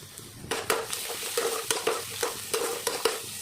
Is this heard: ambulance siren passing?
no